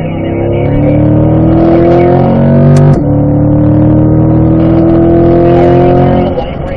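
Car accelerating hard down the straight of a racing circuit at the Michelin Ron Fellows Driving School, a loud, sustained engine drone rising in pitch, with a brief shift dip midway before climbing again, heard from inside the car.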